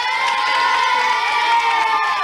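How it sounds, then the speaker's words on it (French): Children and a TV studio audience cheering and shouting for a child contestant, a bright, sustained roar of many voices, loud and continuous. "Stop, on l'applaudit aussi, viens là."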